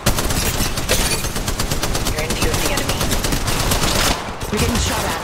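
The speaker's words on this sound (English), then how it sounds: "We're getting shot at." Dense rapid automatic gunfire from Apex Legends Mobile, a battle royale shooter, rattles on continuously and loud through the whole stretch with only a momentary gap near the end, faint voices buried beneath.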